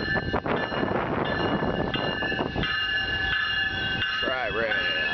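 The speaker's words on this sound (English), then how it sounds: "Our train coming in now." A Tri-Rail commuter train pulls into a station with a loud rumble and clattering wheels, then a rising squeal as it slows. People talk nearby over the noise.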